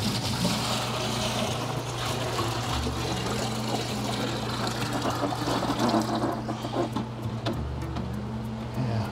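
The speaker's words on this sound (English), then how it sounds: "So let's get that poured out into a bucket" Dirty water from a canister aquarium filter pours steadily into a bucket, a continuous close splashing and gurgling that runs the whole time with a low hum underneath.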